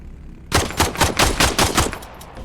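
SMG fire in a VR shooter game played with a Tomahawk gunstock, sounding as a rapid burst of about ten sharp, loud shots after a half-second lull, evenly spaced and close, with no talking.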